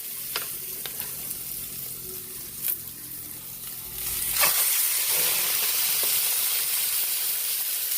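Chicken sizzles and fries in a pan, a steady hissing crackle that swells louder partway through as the meat hits the hot oil, with a few faint clinks alongside.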